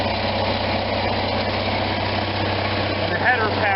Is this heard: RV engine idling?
yes